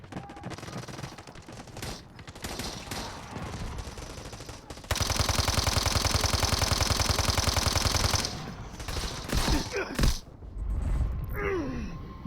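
Sustained automatic gunfire from an online shooter game, loud and dense, with a steady rapid burst running for a few seconds in the middle amid busy game sounds and a few scattered shots afterward.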